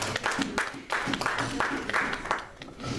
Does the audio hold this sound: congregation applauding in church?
yes